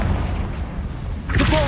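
A Confringo fire spell detonates in the Hogwarts Legacy video game, a booming blast that swells near the end over a steady bed of game noise, loud and close.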